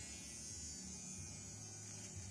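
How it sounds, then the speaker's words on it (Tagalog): An ENCHEN mini electric shaver runs with a steady, close, high-pitched motor buzz that holds constant and unbroken for the whole moment. "Ang gagawin mo lang, bubuksan mo lang yung shaver."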